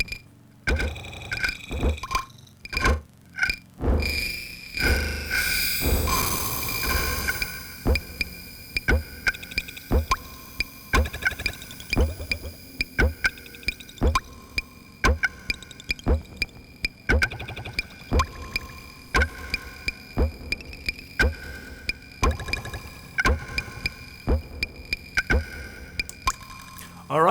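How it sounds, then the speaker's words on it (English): Phasing drum pattern programmed on a Gotharman LD3 drum machine with simple pinging, filtered drum sounds and reverb, a dense run of sharp repeated hits that drift against each other, loud and upfront with no talk. "I really like to use the gotharman LD3 with simple drum sound like this ping filter for that."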